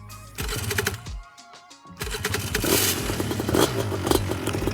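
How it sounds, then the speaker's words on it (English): An ultralight trike's propeller motor cranks, catches and starts, then revs up into a loud buzzing roar with rising and falling throttle. "Motor is so dialed."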